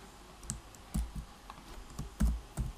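Close typing on a computer keyboard: a quick, irregular series of sharp key clicks and thumps with short gaps between them, alone in a quiet room.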